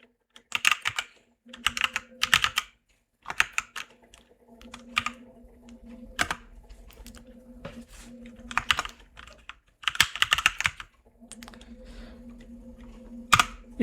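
Computer keyboard typing while entering text into a PowerPoint slide, heard as several close bursts of quick clicking keystrokes separated by short pauses, with no talk over it.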